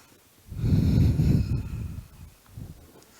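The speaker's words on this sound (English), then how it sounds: "3 deep breaths." One deep, forceful breath during yoga in plank position, a loud airy inhale-exhale rush lasting over a second, followed by a softer trailing breath, close to the microphone.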